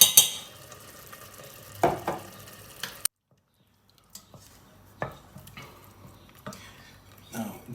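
Green chilies and spices such as paprika and curcuma frying in a pan, with scattered stirring scrapes and soft sizzle that drop out briefly midway before resuming in quiet, intermittent bursts.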